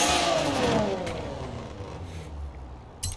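Rossion Q1 sports car in Forza Horizon 4 starting up and revving, a loud mid-range engine roar that swells early then settles into a steadier hum, with a sharp click near the end.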